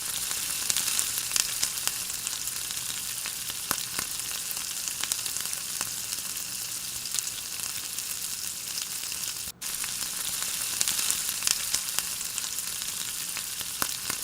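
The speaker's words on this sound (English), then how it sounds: "Add fenugreek seeds and mustard paste we prepared." Fenugreek seeds and mustard paste fry in hot mustard oil in a pan, giving a loud, steady sizzle that runs unbroken apart from a momentary dropout, with no talking.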